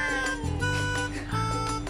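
A British Shorthair cat in a rescue cat café meows in short tonal calls while gentle background sound continues, close and clear.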